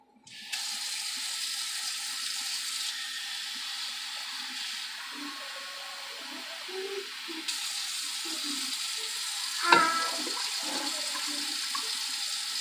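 Water from a tap pours steadily into a pot over chicken for slow-cooker cabbage soup, a continuous hissing flow with a brief splash partway through and no talking.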